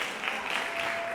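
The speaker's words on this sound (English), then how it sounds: "Give them a round of applause" An audience applauds a school concert band and jazz combo group, a steady, dense wash of many hands clapping at once, filling the whole moment without pause.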